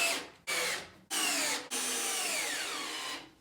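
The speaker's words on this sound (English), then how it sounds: "Oh, drill's getting tired. Last screw." A cordless drill driving screws whirs in three bursts, the last one longer and slowing as it drives in, with a slight grinding rub; close and loud.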